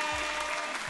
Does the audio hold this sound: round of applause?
yes